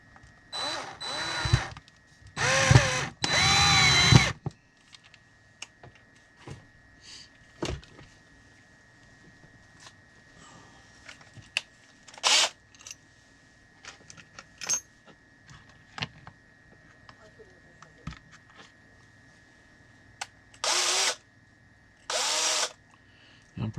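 A power drill whines in several short bursts, loud at the start and again near the end, with quiet handling clatter between runs.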